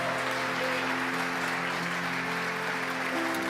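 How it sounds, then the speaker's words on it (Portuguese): A church congregation applauds in a steady wash of clapping at moderate level, with faint sustained tones underneath throughout. "Isto merece um aplauso"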